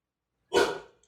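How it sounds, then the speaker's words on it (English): A single loud, close bark from a pit bull cuts through otherwise silent surroundings and fades quickly, with no one talking. "Rangers of the Dork Forest have heard much worse than an occasional dog bark."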